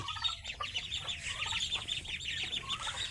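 A black-necked hen gives soft, repeated clucks close by, in a quick, uneven rhythm over a brief quiet stretch with no talk.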